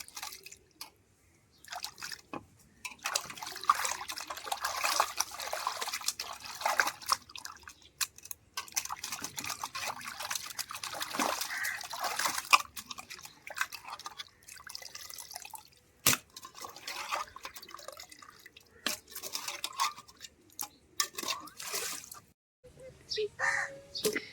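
Water trickles and splashes steadily while fish is rinsed by hand several times, close up, with a voice talking over the running and dripping.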